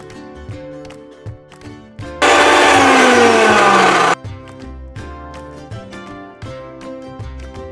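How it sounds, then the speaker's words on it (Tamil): Tomatoes whirl in an electric mixer grinder in one loud, continuous two-second burst of whirring and churning that cuts off abruptly, with quieter background music before and after. "நம்ம தக்காளிகளை போட்டு அரைச்சி எடுத்துக்கலாம்"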